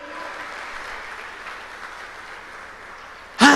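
A church congregation at a worship service applauding, a broad sustained patter of clapping filling the room, ending in a sudden loud burst at the close.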